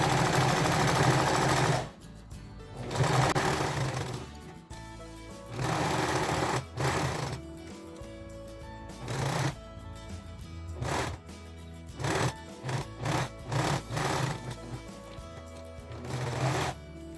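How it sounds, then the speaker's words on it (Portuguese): A domestic sewing machine stitches fabric scraps into a mug mat, running in bursts of rapid, close needle clatter that start and stop repeatedly as the fabric is turned, with short pauses between runs. "deixo a agulha enfiada, levanto aqui o pezinho, giro e continuo a costura"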